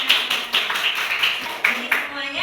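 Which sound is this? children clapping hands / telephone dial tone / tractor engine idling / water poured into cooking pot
children clapping hands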